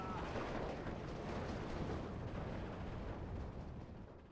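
Artillery fire in the World War II strategy game Steel Division 2: a steady, dense, rumbling barrage of booms blending into one continuous roar that fades slightly at the end, with a voice faintly under it.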